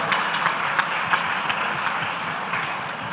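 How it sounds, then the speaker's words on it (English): An audience at a tech summit conclave applauds. The clapping is moderate and steady for a few seconds, with scattered sharper claps standing out. "give a thunderous applause for your parents,"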